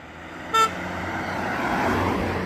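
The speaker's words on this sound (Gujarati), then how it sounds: "ગાડીમાં મળે, હોર્ન મારે ને હાય હેલો કરે" A single short car horn toot sounds on a Jerusalem street, sharp and close, over a continuous wash of passing traffic and road noise.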